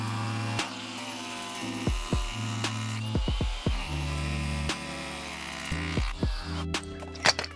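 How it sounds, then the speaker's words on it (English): A power driver sinks a concrete screw during a garden room build, its motor whirring close up in short stop-start bursts that rise and fall in pitch, with a few sharp clicks between runs. "Get my concrete screw and drive that in."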